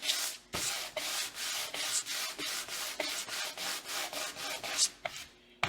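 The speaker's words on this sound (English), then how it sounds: "we're going to take our super rough, this is 60 grit sandpaper, and we're going to go right over our lettering" A painted wooden porch sign's lettering rubbed with coarse 60 grit sandpaper, giving a loud close rhythmic rasp of repeated back-and-forth strokes, about a dozen in steady succession.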